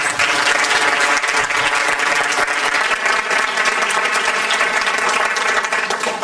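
Audience applause fills a board of education meeting room, a dense, steady wash of many hands clapping at close range that holds evenly from start to finish with no voices over it.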